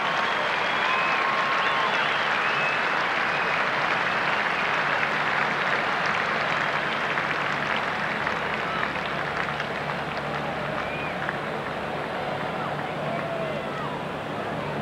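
Continuous applause and crowd noise fill the scene, a dense, steady wash of clapping and cheering with no pause.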